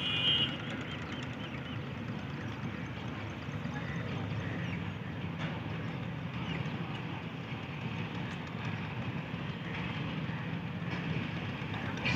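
A KDA coal special train pulled by a GEU 40 9038 locomotive approaching slowly at Sanawan station, a low continuous rumble with faint rhythmic clatter of wagons, steady and moderately loud throughout.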